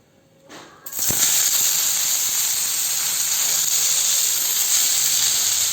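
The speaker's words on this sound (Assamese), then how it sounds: "মই এতিয়া ইয়াত মিঠাতেল দি দিলোঁ আৰু অকণমান দি মই পুদিনাখিনি অলপ গৰম কৰি ল'ম।" Mint leaves heated in mustard oil in a wok give a steady, loud sizzling hiss that begins abruptly after a second and continues without pause, close up and with no talking.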